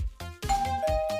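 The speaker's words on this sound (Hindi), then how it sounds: "क्या कोई घंटी बजा रहा है? जो भी है, घंटी बजाना बंद करो।" A doorbell rings insistently at a house, several chimed ding-dong tones sounding in quick succession over a brief stretch, fairly close and loud.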